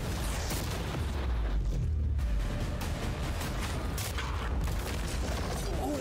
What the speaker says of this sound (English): we're about to fire the cannons at your new yacht